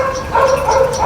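Dogs barking outdoors on an early morning in Santorini, Greece, a couple of short yelping barks at moderate distance over a steady background.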